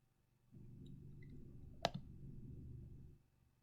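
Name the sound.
computer mouse click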